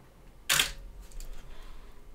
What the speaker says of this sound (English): you might even hear the shutter trip in the mic